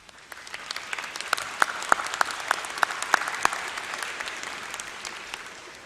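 A graduation audience at a summer commencement ceremony applauds in steady, sustained clapping that swells and holds, with a few sharper individual claps standing out over the crowd.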